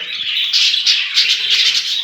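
Close, busy chirping and shrill squawks from budgerigars come in quick, overlapping bursts, with no talking.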